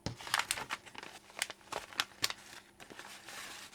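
Paper crackles and crinkles as a wrapped gift in nice wrapping paper is opened, with dense, close rustling and sharp tearing snaps in an irregular rhythm, and no voices.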